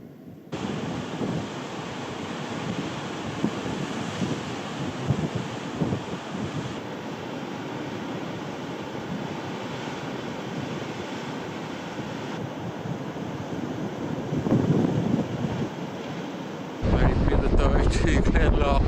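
A steady cold breeze buffets the microphone on the Donegal coast near Glenlough, a constant loud rushing roar with surf-like swells that lasts the whole clip.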